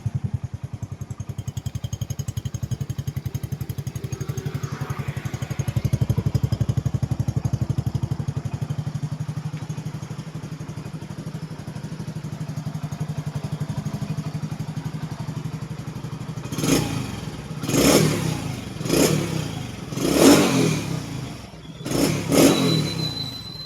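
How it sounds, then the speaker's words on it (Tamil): A motorcycle engine idles steadily with a low throbbing beat, then revs sharply in several short bursts near the end. "அதே போல் இன்ஜின் பீட் எப்படி இருக்குன்னு பாருங்கள்."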